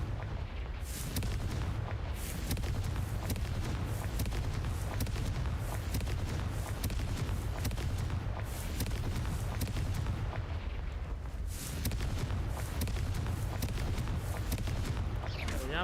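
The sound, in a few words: Confringo fire spell explosion from the video game Hogwarts Legacy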